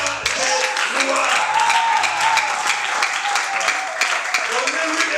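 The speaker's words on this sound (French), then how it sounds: "Donnez-lui des acclamations" Applause and cheering from a church seminar congregation, dense sustained clapping with voices shouting and a speaker's voice rising over it throughout, loud and close.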